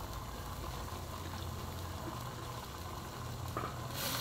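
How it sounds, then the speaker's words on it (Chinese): Food, with lemongrass and curry paste, is stir-fried in a pan, a faint, steady sizzle that runs unbroken for a few seconds and swells slightly near the end. "炒一炒"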